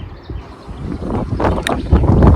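Strong wind on the Koheda Gutta hilltop near Hyderabad buffets the microphone in a low, rumbling roar that builds steadily louder over a couple of seconds.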